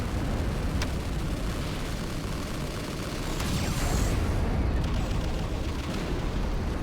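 Minos cannon fire in the sci-fi tower defense game Siege of Centauri, a continuous rumbling barrage of heavy booms and bursts with a few sharper cracks, loud and sustained.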